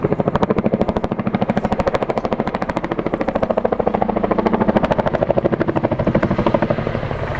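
A Boeing CH-47 Chinook tandem-rotor helicopter in flight, loud and close, its rotors beating out a rapid, relentless thudding pulse over a deep engine roar throughout, with no voices.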